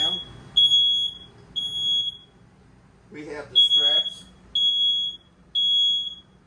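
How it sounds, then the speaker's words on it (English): The smoke alarm above the door of a 2026 Forest River Salem Platinum FSX 270RTKX toy hauler RV gives short, loud, high beeps at a regular, repeating pace. Someone speaks briefly between the beeps. "it does have a smoke alarm right above the door. It's going to give you the same kind of annoying little sound."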